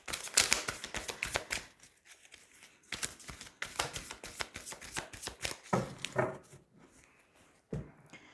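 Tarot cards being shuffled and cut by hand, rapid bursts of crisp riffling and slapping in quick clusters with short pauses between, close and clear, no talking.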